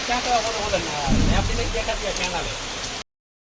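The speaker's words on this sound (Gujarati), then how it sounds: "જો વરસાદ કેવો વરસો છે" Heavy rain pours over flooded farm fields, a close, steady hiss and spatter with a faint voice murmuring underneath, cutting off abruptly before the end.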